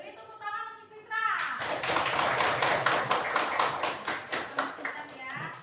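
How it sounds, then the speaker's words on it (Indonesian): A classroom of children applauding: dense, rapid hand clapping starts abruptly after a teacher speaks and continues steadily for several seconds, close and lively, then thins out into scattered claps. "Beri tepuk tangan untuk Citra"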